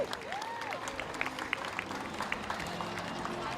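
Applause for a Gamecocks track and field athlete at senior day, a steady crowd clapping at moderate distance with crisp individual claps standing out and a brief voice or whistle early on.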